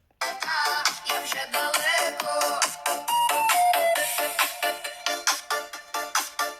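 A bright, tinny ringtone melody plays from the small speaker of an Oukitel WP58 Pro rugged phone, a quick run of repeated electronic notes without pause.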